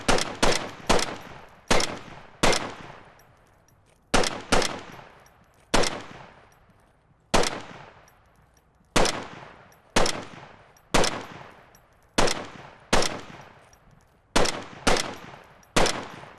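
Volk rifle in a video game fired semi-automatically: about fifteen sharp, loud single shots at uneven intervals, each with a short ringing tail, and no talking.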